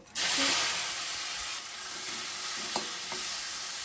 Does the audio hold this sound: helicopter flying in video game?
no